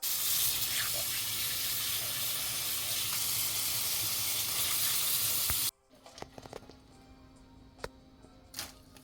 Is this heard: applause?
no